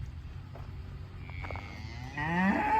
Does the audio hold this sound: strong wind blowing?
no